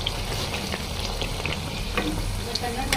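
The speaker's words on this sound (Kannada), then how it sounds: "ಇವನ್ ಮೀಡಿಯಂ ಉರಿ ಇಟ್ಟು ಗೋಲ್ಡನ್ ಕಲರಿಗೆ ಬರೋವರೆಗೂನ ಕರ್ಕೊಳ್ಳಿ" Badam puri deep-frying in hot oil over a medium flame, a steady dense crackle and sizzle with small pops throughout, close and fairly loud with no voices.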